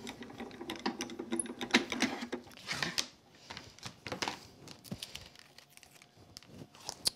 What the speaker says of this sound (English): put my embossing mat over it. Quick run through.